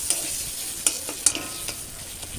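Close-up stirring of tomato and spices in a wok over a soft sizzle, with a few sharp metallic scrapes and clinks spaced irregularly, no voices.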